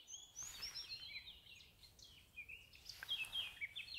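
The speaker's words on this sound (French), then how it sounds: "Les oiseaux elles chantent." Birds sing outdoors in a forest countryside setting, with several bright chirps and warbling phrases rising and falling throughout, moderately faint over a soft steady background hum, and no talking.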